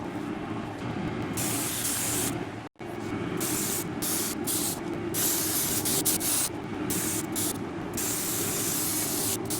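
A spray gun lays paint onto the quarter panel of a BMW 535i E60 in a body shop, making a loud, continuous airy hiss broken by short trigger releases and one brief full stop.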